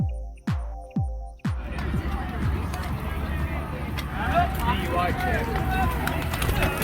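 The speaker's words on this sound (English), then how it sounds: "Next is the sound of hundreds of people clipping in." Three sharp metallic clicks up close, then a dense wash of hundreds of cyclists clipping into pedals at RAGBRAI, clacks and rattles mixed with crowd chatter.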